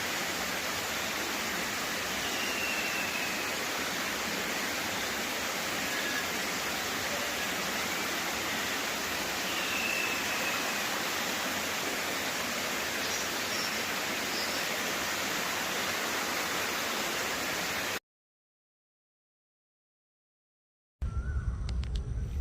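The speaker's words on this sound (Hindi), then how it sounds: "झरने की आवाज जैसे बजता हुआ एक साज।" Steady broadband rush of a waterfall, continuous and even for most of the span, with no voices, before a short silence and a brief burst of noise at the end.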